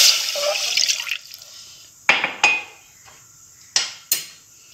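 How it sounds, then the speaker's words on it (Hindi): A cup of water is poured for making milk tea: a short stream of liquid runs for about a second, followed by a few sharp clinks of utensils in a quiet kitchen. "एक कप हम पानी लेंगे।"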